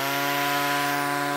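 An Einhell GE-CT 18 Li cordless grass trimmer runs: a steady, loud, close motor whine with a bright buzzing hum that holds evenly throughout.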